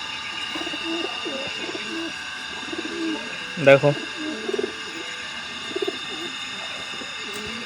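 Kalshira pigeons coo in soft, low bursts over a steady background hum, and a voice speaks briefly.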